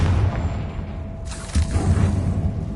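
A Confringo explosion spell goes off in a fantasy video game set in a decayed catacomb, a single sudden boom with a whooshing burst that settles into a lingering rumble, near and loud.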